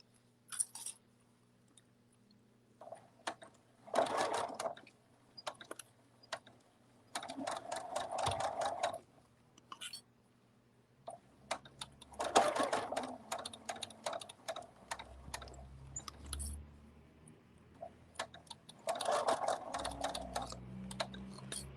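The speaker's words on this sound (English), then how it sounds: "And then we'll just sew this little bunny arm." A home sewing machine stitches the arm of a small fabric cuddle bunny in several short bursts of rapid whirring, with quiet pauses between runs and faint handling sounds nearby.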